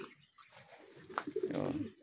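Racing pigeons arriving home give soft, low cooing calls, faint and close, rising into a brief cluster of coos near the end with light ambient noise.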